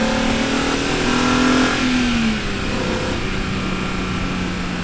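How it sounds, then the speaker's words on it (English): A BMW E46 M3 engine revs up and drops back, a rising mechanical whine that peaks around two seconds before settling into a lower steady drone, loud and close with no voices. "when you start pulling in the revs, when you start rev matching, when you start getting closer and closer to its red line, that's when this car comes alive."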